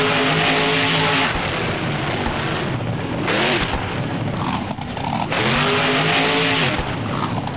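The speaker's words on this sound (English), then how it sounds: "this engine's kind of backfiring a little bit too" A monster truck in the BeamNG driving game revs hard in a high gear, its engine note surging and falling with sharp backfire pops and crackles, loud and close.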